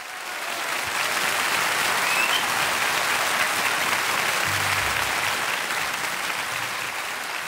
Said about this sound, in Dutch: We gaan haar zo hard mogelijk vanavond steunen met u en ons applaus.